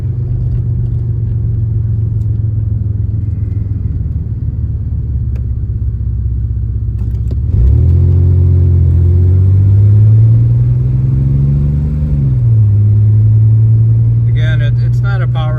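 A 1986 Mercury Cougar's 3.8-liter V6 runs steadily while driving, a smooth low rumble throughout that swells partway through as the car accelerates, holds a higher pitch, then eases back down.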